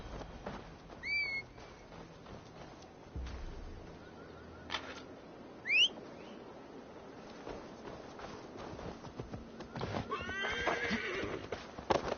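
A horse in Assassin's Creed Valhalla neighs a few times over faint rustling, with soft hoofbeats clip-clopping that build toward the end.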